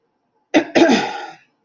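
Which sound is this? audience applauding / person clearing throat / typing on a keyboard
person clearing throat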